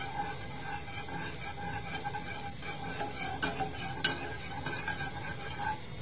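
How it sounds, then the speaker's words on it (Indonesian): Sweet soy sauce being heated and stirred in a pan as a glaze for Sundanese grilled chicken, with soft utensil scraping and faint bubbling, a few sharper clinks near the end, no talking. "kita tambahkan kecap ya secukupnya, kemudian kita aduk"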